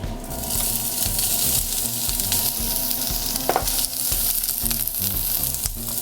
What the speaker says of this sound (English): So I got my oil in here, nice and hot, ready to go. Add our onions.